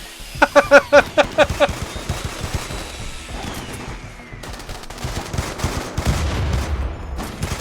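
Bursts of automatic gunfire in a RimWorld battle, a quick rapid string of shots at the start followed by lower rumbling combat noise and scattered distant shots.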